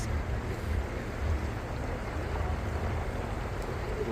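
A year-end boat ride across the water on the way to the Abra crossing at Al Qana, with a steady low rumble of hull and waves and constant wind buffeting, no voices.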